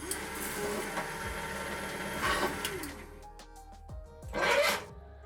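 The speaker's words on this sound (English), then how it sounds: "take it over to the Cannular Pro and simply can it" A Cannular Pro can seaming machine seals a can of English pale ale, with whirring mechanical spins, rattling and short bursts of motor noise rising and falling, close up and without speech.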